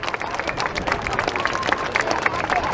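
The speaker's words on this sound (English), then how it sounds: "Please give the synchro pair a massive round of applause for a wonderful heart in the skies over Blackpool" Crowd applause and clapping at the Blackpool air show after a Red Arrows synchro pair display, a steady dense spread of many hands with outdoor crowd murmur mixed in.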